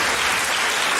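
A short burst of applause sound effect used to signal that a speaker's time is up in a soccer fan debate. Dense, loud, continuous clapping with no voices.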